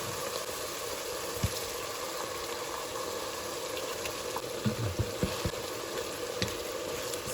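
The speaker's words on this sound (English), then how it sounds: "And now we will add some red wine." Red wine poured onto browned minced meat in a pan for lasagna bolognese, producing a steady, soft bubbling sizzle throughout with a few faint clinks and stirring knocks, no voices.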